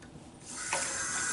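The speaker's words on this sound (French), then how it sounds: "Je vais rincer la figure." Water runs at a bathroom sink as a face is rinsed during a traditional wet shave, a steady faucet stream that swells slightly louder midway, with no talking.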